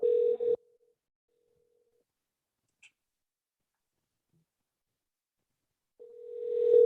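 An electronic telephone ring tone sounds in a short burst, falls silent for several seconds, then returns and swells louder, a clean steady tone with nothing else around it.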